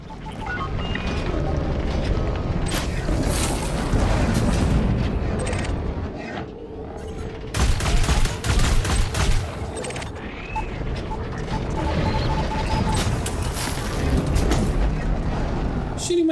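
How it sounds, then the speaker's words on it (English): Heavy gunfire strikes a ship in the space game Elite Dangerous: Odyssey, a dense run of loud booming impacts and rumbling blasts that swells in bursts, with talking over it. "shooting my ship again, Mustang?"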